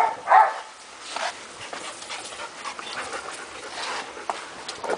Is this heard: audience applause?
no